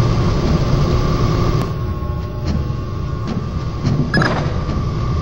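A train rolls past at a nuclear power plant in the PS2 game Splinter Cell, a loud continuous rumble of rail cars with clattering wheel clicks and occasional sharp metallic knocks.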